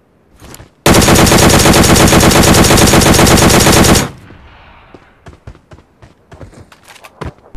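A long, loud burst of automatic machine gun fire in the mobile battle royale game PUBG Mobile lasts about three seconds, followed by scattered lighter taps and footsteps, preceded by a brief softer sound.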